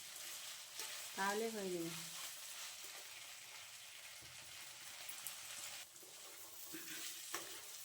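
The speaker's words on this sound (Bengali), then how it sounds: "আমি আর 2-1 মিনিটের মতো ছোলাটা ভুনে নেব" Chickpeas fry in a pan as chola bhuna, a faint, steady sizzle with occasional stirring clicks, while a voice speaks briefly near the start.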